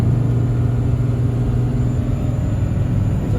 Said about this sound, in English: We're just going to ease on into 4th gear here